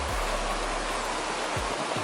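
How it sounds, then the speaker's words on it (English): Continuous close rush of flowing river water at a hidden Jamaican river, an even wash of noise broken only by a few low bumps, with no voices. "This is a beautiful river."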